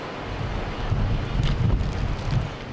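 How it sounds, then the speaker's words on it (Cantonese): Sea swells break against the shore at Heng Fa Chuen, Hong Kong, during a signal-8 typhoon, a continuous rushing roar buffeted by heavy wind on the microphone, with surges swelling and easing over a few seconds. "海邊不時有湧浪拍岸。"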